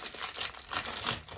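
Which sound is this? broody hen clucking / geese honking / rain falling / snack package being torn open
snack package being torn open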